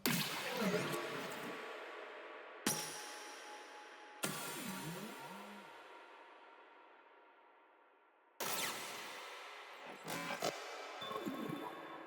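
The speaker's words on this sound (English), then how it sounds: "which are just like glitch sounds that I have on my library" Glitchy sound-design fills drenched in heavy reverb with the lows cut, a few sharp bursts and a short pitched chirp, each trailing into a long decaying tail, quiet and sparse, with no voices.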